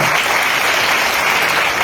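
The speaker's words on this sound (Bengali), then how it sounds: "হাজি ফখরুল হাসান স্যারের জন্য সর্বোচ্চ একটা করতালি" An audience claps loudly and continuously, a dense wash of applause close by that stays at full strength throughout the short stretch, with no voices over it.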